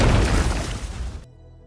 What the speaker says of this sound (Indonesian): dengan meledakkan granat